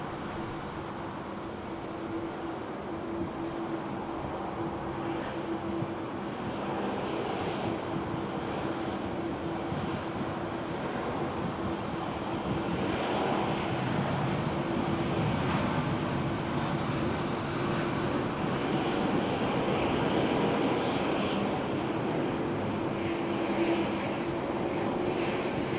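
Airbus A380 jet landing at Sydney Airport, runway 34 left, in a 21-knot crosswind: a steady distant roar of engines that swells slightly and holds for the whole stretch, with no voices.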